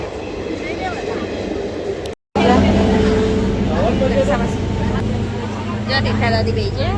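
A train pulling into a busy station, its low rumble and rolling wheel noise building steadily after a brief dropout, with crowd babble and voices around it.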